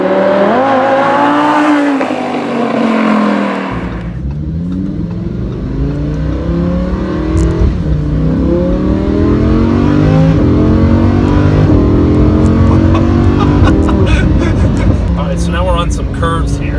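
A 2017 Lamborghini Huracan sports car accelerates with a loud, rising engine note through gear changes, heard from inside the cabin under continuous talking.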